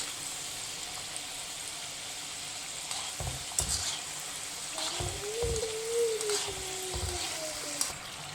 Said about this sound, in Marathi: मिडियम गॅसवर आपल्याला हे तळून घ्यायचे आहे